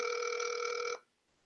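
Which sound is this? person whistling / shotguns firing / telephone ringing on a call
telephone ringing on a call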